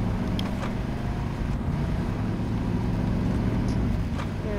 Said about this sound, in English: I'm just over here driving a loud truck